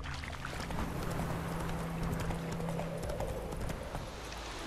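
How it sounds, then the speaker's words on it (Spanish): Horse hooves clip-clopping steadily on rough terrain in the video game The Witcher III: Wild Hunt, a dense rhythmic patter of close footfalls lasting throughout, with a faint whinny-like tone under it. "De repente es complicado subir el terreno con el caballo"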